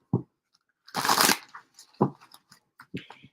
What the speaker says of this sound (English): These cards are now shuffling.